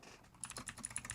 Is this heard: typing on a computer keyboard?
yes